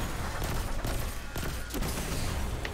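Rapid continuous gunfire in the Destiny 2 video game, a dense barrage of loud overlapping shots with a few sharper bursts standing out.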